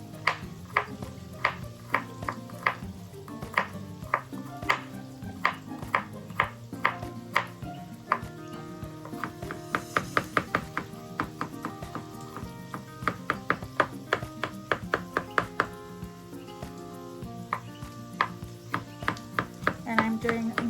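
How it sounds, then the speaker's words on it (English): A knife chopping garlic on a cutting board at home, a steady run of quick, sharp taps that bunch into faster bursts, heard close up over quiet music with no one talking. "I think it's in the wash, so I'm just gonna chop it."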